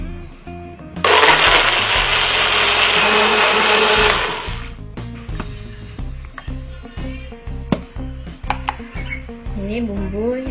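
Kitchen blender grinding a spice paste with coconut milk, a loud steady whir for about three seconds that stops abruptly, followed by clattering and knocking of utensils.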